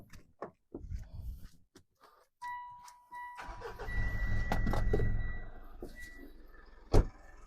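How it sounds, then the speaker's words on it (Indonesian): A Mitsubishi Pajero Dakar 2018 diesel with a larger turbo intercooler and a downpipe exhaust, heard up close: a few clicks and knocks come first, then the engine catches and settles into a low, rumbling idle, and one sharp knock follows near the end. "Kita dengerin suara mesinnya lebih dekat."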